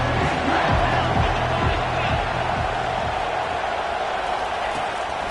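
Football stadium crowd roaring steadily during a game, a dense continuous wash of distant cheering and hubbub with no close voices.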